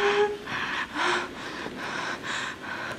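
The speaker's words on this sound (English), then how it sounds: "You breathing mad heavy, girl." Heavy, rhythmic breathing in a tense moment of the horror game Until Dawn, several loud, close gasping breaths in a steady cycle with no talk.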